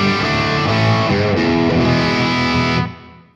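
An electric guitar plays through a hand-wired RockNRoll Amps CR60 amplifier with the gain turned up, giving loud, heavily distorted chords that ring and sustain for a few seconds before being cut short.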